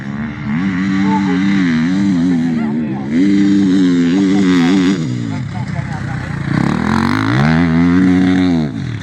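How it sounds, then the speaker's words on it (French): A motorcycle at the Val de Lorraine rally on the Belleau special stage revs and accelerates with a loud, rising and falling engine note close by, while people talk over it. "la moto qui parle en même temps"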